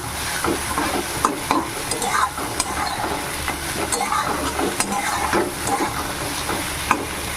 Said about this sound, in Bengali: নাড়াচাড়া করে ভালো করে ঝিঙের সঙ্গে ডিমগুলোকে মিশিয়ে নেব